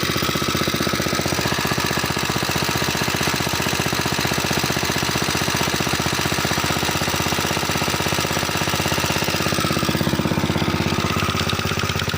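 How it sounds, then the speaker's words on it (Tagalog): The engine of an irrigation water pump runs in a rice paddy, a loud, close, steady rapid knocking chug that holds unbroken throughout with no voices. "Nilagsan ko lang ng konti yung aking makina para yung tubig ay hindi gaanong mabagal."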